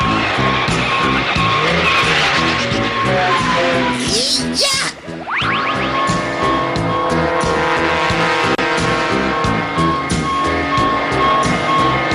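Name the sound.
police chasing a car in a cartoon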